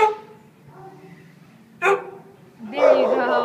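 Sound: shelter dog barking

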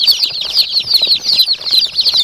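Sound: Gavran (desi) chickens and chicks clucking, flapping

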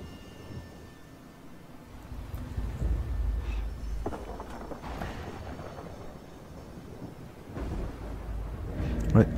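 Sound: thunder during a ritual in Total War Warhammer 2 video game

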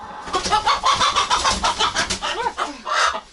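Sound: rooster clucking

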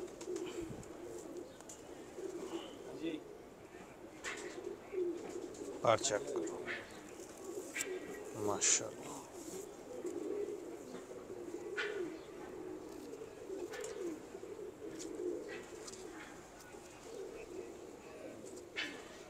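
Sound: pigeons cooing

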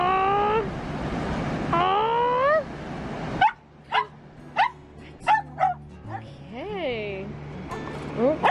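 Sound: small dog barking and yipping

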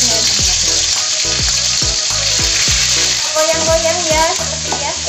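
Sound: ground spice paste sizzling as it is sautéed in a pan

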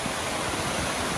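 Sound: glacier meltwater stream rushing down from mountain

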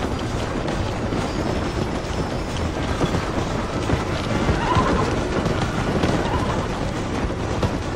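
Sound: horse running in the video game Red Dead Redemption

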